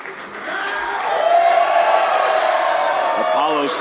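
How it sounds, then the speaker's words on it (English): A wrestling show crowd cheers and whoops in a loud, sustained roar that swells after the first second and holds steady, with scattered shouts rising from the mass of voices. "this crowd is loving it"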